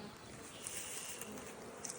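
Honeybees buzzing at an established hive, a dense, continuous hum of many insects close by, with no other sound.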